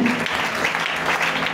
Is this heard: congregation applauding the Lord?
yes